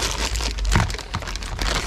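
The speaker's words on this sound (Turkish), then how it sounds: "Poşeti açalım." Close crinkling and rustling of a plastic parts bag, continuous and fairly loud, with crackles as it is handled and pulled open during starter housing installation on an Oleo-Mac BCH 40T brushcutter.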